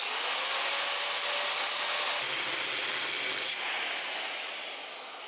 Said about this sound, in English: I use a angle grinder and cut it sideways